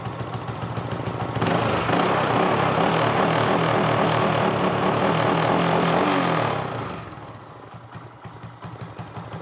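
A motorcycle engine converted from carburettor to fuel injection revs up loudly, holds a steady rev for several seconds, then drops back to a rough idle, nearby with no talking.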